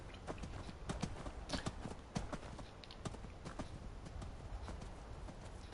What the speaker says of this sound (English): I wonder what clippity cloppity was.